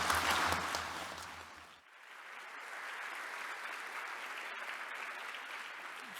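Audience applause greets a speaker taking the stage at a conference opening session, a loud sustained burst of clapping that briefly fades and then swells again into steady, even clapping.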